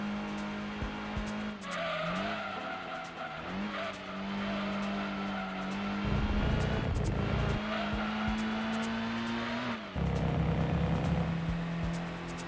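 A race car laps a track in Gran Turismo 2, its engine droning steadily with pitch rising and dipping through gear changes, tires squealing and skidding through corners, loud and continuous throughout.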